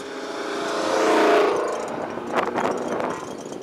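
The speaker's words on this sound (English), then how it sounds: "I love a good muscle car, but tune it right. Don't just have a bunch of noise and not go anywhere." A muscle car engine revs hard, swelling to a loud roaring peak and then falling back into a rougher, sputtering growl, close by with no talk over it.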